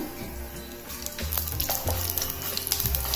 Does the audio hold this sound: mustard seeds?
yes